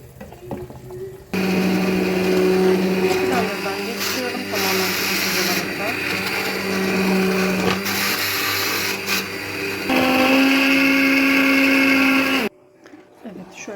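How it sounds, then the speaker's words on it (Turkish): A kitchen blender purees cooked celery soup in a loud, continuous whir whose pitch shifts several times as the motor speed changes, starting abruptly and cutting off near the end. "Artık blenderlaya biliriz."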